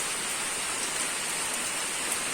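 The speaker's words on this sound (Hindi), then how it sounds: "ये देखिए पूरा इधर बारिश तो तेज़ हो रही है" Heavy rain pours steadily outdoors in a hilly region, a dense, even hiss of drops close by with no gaps or voices.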